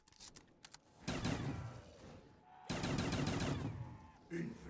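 Shotguns fired in Black Ops 3 custom zombies, with two loud, dense bursts of blasts and clattering in-game action between brief quieter gaps.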